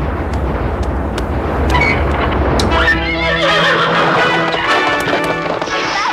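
A horse lets out a loud, shrill whinny that rises and trails off, preceded by busy background noise and brief clattering.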